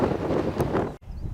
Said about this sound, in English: Now it's a bit windy and the wind is a bit cold.